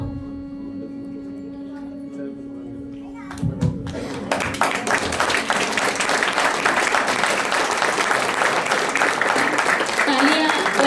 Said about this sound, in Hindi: तालियां बजती रहनी चाहिए श्रोताओं।